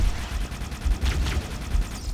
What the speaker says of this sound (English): I just heard a lot of explosions behind me